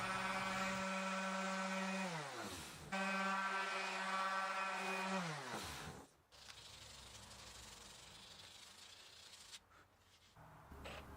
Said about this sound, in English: Here I'm drilling access for the output jack, just using a 7/8 inch Forstner bit.